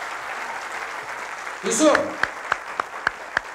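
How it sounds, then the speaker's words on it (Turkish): Studio audience applause on a 1994 Turkish television show, a swelling burst of clapping followed by several sharp, evenly spaced claps, with a voice calling out a name over it. "Gerçekten Yusuf Hayaloğlu'na bir alkış çakalım bakalım."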